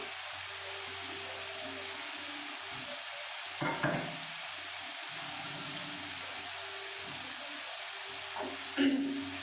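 Crumbled egg and three or four slit green chillies frying in a pan, a steady soft sizzle with a couple of brief stirring scrapes, fairly faint and close.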